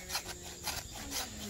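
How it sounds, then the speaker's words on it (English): Fatwood being scraped into small pieces with the squared-off back of a knife spine, outdoors at a skills day: three rhythmic rasping strokes, close and fairly soft, with no speech. "What we're going to do is actually scrape it down into small pieces."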